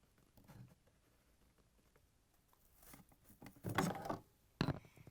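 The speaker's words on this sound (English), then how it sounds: "I'm going to use this flat blade screwdriver. Place it at the back of the blade and I'm going to pry it off the shaft" A flat-blade screwdriver pries a refrigerator condenser fan blade off its motor shaft, making faint scraping and small clicks that build to a couple of sharper plastic snaps near the end.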